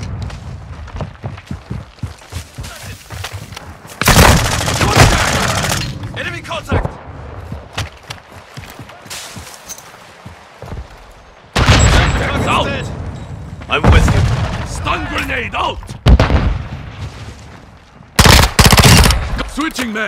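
Rapid automatic gunfire and explosions fill a Call of Duty Modern Warfare 2 multiplayer match, with loud bursts of shots broken by short pauses and game voice callouts heard over the action.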